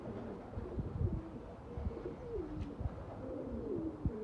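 Pigeons coo softly at close range in a loft, with low, throaty, rolling calls overlapping in an uneven rhythm and light rustling beneath.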